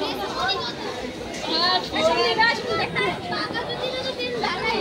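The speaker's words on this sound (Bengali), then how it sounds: "ভোরের ট্রেনে এসেছি, তাও কত ভিড়, এত ভিড়।" Busy crowd chatter fills a large railway station at Sealdah, many overlapping voices and footsteps with children's voices mixed in, steady and fairly loud throughout, after an early-morning train arrives.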